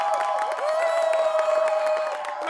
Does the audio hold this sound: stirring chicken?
no